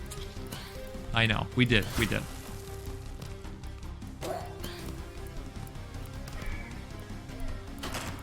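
A goat companion in the roguelite mining game Below The Stone bleats in a few short, nasal bursts that rise close and clear over steady game ambience, with a person talking around them.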